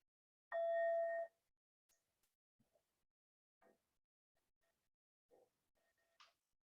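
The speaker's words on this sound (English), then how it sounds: "I like to ring the bell" A meditation bell is struck once, giving a clear ringing tone that fades within about a second, followed by quiet with small scattered taps and rustles.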